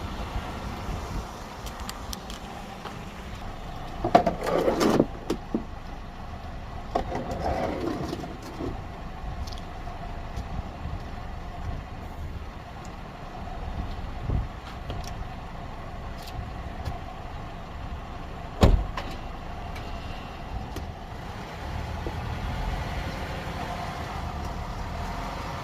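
A 2009 Chevy Cobalt idles and creeps up onto ramps, its low engine rumble steady and fairly close, with a couple of louder clunks and bumps as it rolls, and faint birds somewhere in the background.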